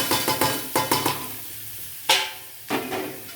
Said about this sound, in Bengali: দিয়ে ভালো করে নাড়াচাড়া করে নিতে হবে।